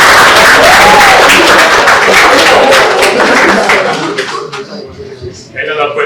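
Applause from a school group on an excursion to a naval dockyard, a dense wash of many hands clapping for several seconds, fading toward the end as a voice speaks over it.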